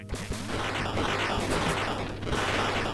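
Gunfire from the Duck Game video game rings out as a loud opening shot, followed by dense, continuous game noise with rapid bursts layered over it.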